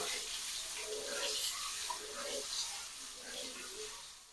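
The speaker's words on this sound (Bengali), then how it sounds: "তেলটা গরম হয়ে গেছে এবং দিয়ে নেব ডিমগুলো দিয়ে সুন্দর করে ফ্রাই করে নেব" Eggs frying in hot oil in a pan, a soft continuous sizzle and hiss at moderate distance with faint murmuring voices underneath.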